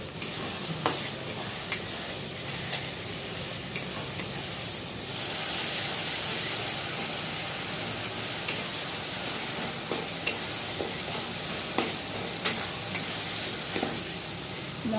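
Chili, cumin and turmeric fry in a pan with a splash of bowl-rinsing water for a Bengali dhokar dalna curry, giving a steady close sizzle broken by sharp scraping clicks as the spices are stirred.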